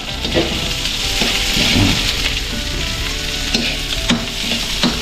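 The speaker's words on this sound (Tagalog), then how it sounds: "Pinagsama-sama na po natin yung bawang, sibuyas, tsaka luya para sa bayan na po." Garlic, onion and ginger sizzle and crackle in hot oil in a pan, with steady close frying and occasional stirring scrapes, no voices.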